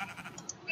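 A sheep in the video game Minecraft gives one short, nasal bleat, close and clear with nothing else around it.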